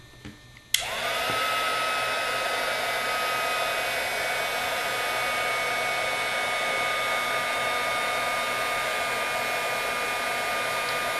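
Heat gun switching on with a sharp click and then blowing a steady, loud whooshing hum without a break while it heat-sets embossing powder, close up and alone.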